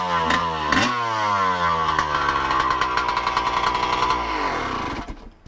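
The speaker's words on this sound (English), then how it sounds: "Some of you guys have been wanting to hear the bike without a muffler" A dirt bike engine run without a muffler, close and very loud, with a raw blatting rev whose pitch climbs and falls and rises again before cutting out abruptly near the end.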